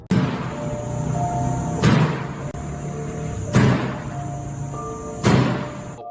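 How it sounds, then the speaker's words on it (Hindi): A hospital door bangs loudly three times at steady intervals of under two seconds, each heavy thud standing out sharply over a constant background hum. "हॉस्पिटल का दरवाजा जोर जोर से बजने की आवाजें आ रही थी"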